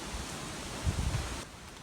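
Steady broadband wind and rain on a stormy morning at a riverside hammock camp, a continuous hiss with a few low gusty rumbles midway, heard from inside the hammock with no talking.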